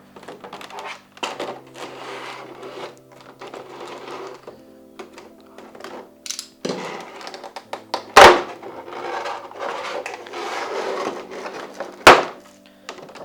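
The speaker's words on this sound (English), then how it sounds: "Taking it out of the blister packaging." Anime figure being pulled from a plastic blister pack: scattered crinkly crackles and rustles of stiff plastic, close and irregular, with a couple of sharp snapping clicks.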